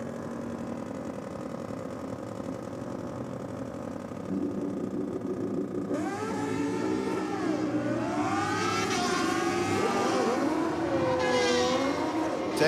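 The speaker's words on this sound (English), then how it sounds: "running for Pensioner Racing on the Honda CBR 1000." A Honda CBR 1000 motorcycle at a drag racing track championship starts with a steady idle, then its engine revs climb and fall in loud rising sweeps at the start line, with an announcer talking over it.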